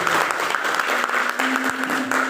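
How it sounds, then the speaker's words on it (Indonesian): A church congregation claps together in a steady, dense burst of applause that fills the room, loud and continuous with a faint voice or tone lingering beneath. "Saya mau tepuk tangannya biar semangat."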